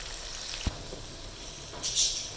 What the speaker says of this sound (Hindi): अच्छे से जो है इसकी भुनाई कर लेंगे तकरीबन 1 मिनट के लिए